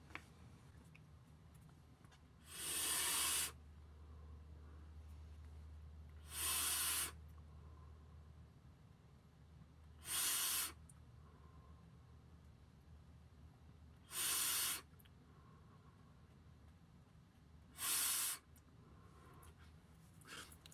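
Draws on an Aromamizer Plus RDTA with the airflow fully open, burning off e-liquid at around 107 watts: five separate sizzling, hissing puffs a few seconds apart, close and fairly loud over a quiet background.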